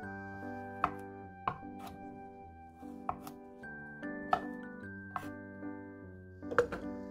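A knife chops kabocha squash into rough chunks on a cutting board, giving about a dozen irregular knocks and thunks over soft, steady background music.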